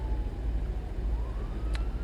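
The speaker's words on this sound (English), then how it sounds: "sorry if you can hear a siren there" A passing emergency vehicle's siren outside wails faintly in the distance, a thin tone sliding up and down over a steady low engine rumble.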